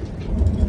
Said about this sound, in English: Apparently there's rain outside